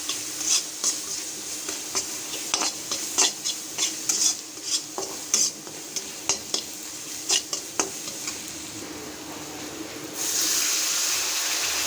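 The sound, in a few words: spice paste being fried and stirred in a pan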